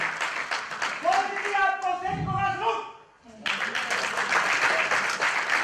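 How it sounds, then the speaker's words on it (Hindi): Audience at a Hindi poetry evening honoring martyrs claps under a speaking voice, the applause pausing briefly mid-way and then swelling back loud and full to the end. "बहुत अच्छा, बहुत जोरदार तालियां।"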